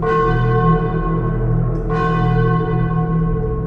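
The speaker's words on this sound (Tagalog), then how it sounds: "Doon ko narinig ang tunog ng kampana." Church bell ringing at a closed, dark church at night, its sustained metallic tone humming steadily with a fresh strike near the middle that renews the shimmering overtones, loud and close with no voices.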